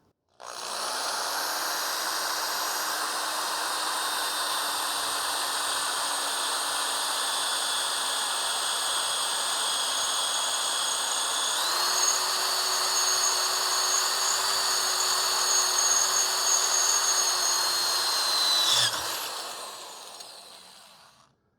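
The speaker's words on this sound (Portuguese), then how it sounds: "Primeiro vamos utilizar a broca sem marca." A power drill with an unbranded bit whines steadily as it bores into a 3.5 mm iron angle, the pitch rising partway through as load changes, then cutting off abruptly near the end.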